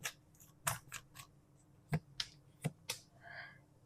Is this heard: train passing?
no